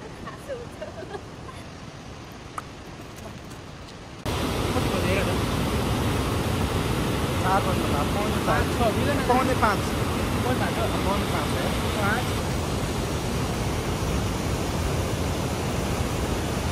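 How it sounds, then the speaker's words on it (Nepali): A river rushes through the Langtang valley in a broad, steady roar of flowing water. It grows suddenly louder after a few seconds and then holds constant, with no voices over it. "यहाँ तलको खोला त धेरै राम्रो"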